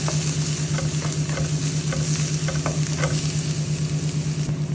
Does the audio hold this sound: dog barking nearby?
no